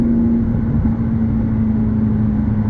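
A 2012 McLaren MP4-12C drives along with a steady, loud engine drone from inside the cabin, one even held tone over low road rumble that barely changes.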